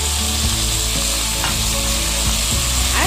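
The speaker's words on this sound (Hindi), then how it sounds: "इसे थोड़ी देर के लिए भून लेंगे ताकि टमाटर जो है सॉफ्ट हो जाए" Coarse tomato pieces and tamarind sizzle and fry in a pan for a tomato chutney, a loud, continuous crackle with occasional stirring scrapes.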